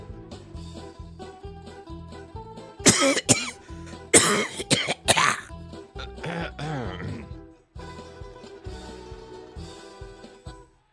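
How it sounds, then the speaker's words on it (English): A character in the Largo Winch video game coughs in several harsh, loud bursts that grow louder, set over quiet music. "We can't just keep increasingly coughing at a louder volume"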